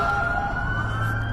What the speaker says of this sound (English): they're all putting their sirens on and lights to help show that they support